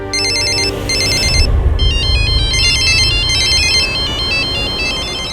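A phone rings loudly with a repeating electronic ringtone, bright beeping patterns cycling over a constant background hum.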